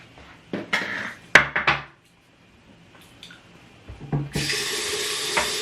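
Tap running warm water into a sink at a bathroom basin during a safety razor beard shave, a few short splashes and clinks, then a steady close rush of flowing water.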